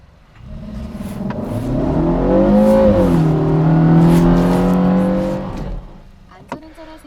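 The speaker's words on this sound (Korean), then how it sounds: "이렇게 엔진음 자체가 조금 더 스포티하게" A Kia K3 GT hatchback engine revs up with a sporty growl, rising in pitch and holding, then settling back down; a voice speaks faintly underneath.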